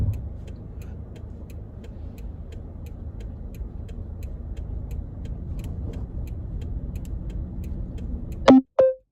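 Steady low engine drone and road rumble from inside a car driving along a highway with a line of vehicles, including an 18-wheeler, behind it, continuous throughout, then two brief loud bursts right at the end.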